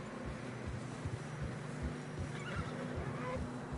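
Horses in Red Dead Redemption 2 snort and neigh while their hooves thud in a steady plodding rhythm through fresh snow, with wind in the background.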